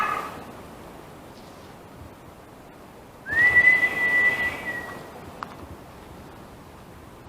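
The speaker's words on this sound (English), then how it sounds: "I whistled. Can you do it back?" A single clear human whistle, a short rising note held steadily for about two seconds, over faint background hiss.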